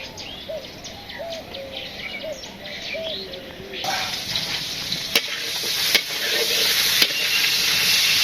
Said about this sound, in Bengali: ওই তো ওই কই মাছ শিং মাছ এগুলো রান্না করে ভাজতেছি